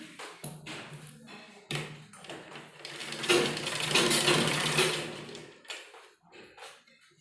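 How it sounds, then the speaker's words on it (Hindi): A sewing machine runs a seam on palazzo trousers, with short motor bursts in the opening seconds and a longer continuous stitching run in the middle, fairly close and moderately loud, with no talking. "इस साइड में हमें सिलाई लगानी है"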